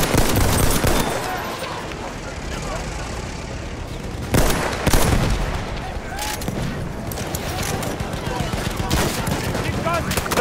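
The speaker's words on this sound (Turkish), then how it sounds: "Makinalı tüfek!" Video game machine gun fire rattles in sustained loud bursts with heavy booming shots and explosions over a dense battlefield din, close and continuous throughout.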